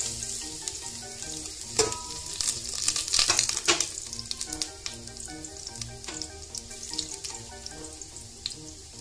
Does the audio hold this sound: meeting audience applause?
no